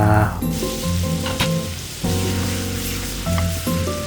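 Duck meat frying in a pan for adobo, a continuous close sizzle and crackle heard under a steady tonal hum, with a few brief bursts of louder spitting.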